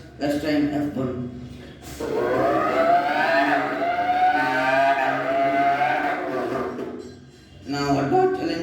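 A human voice imitates a Formula One race car, producing a long rising and falling high-pitched engine whine at close range, with short vocal bursts before and after it.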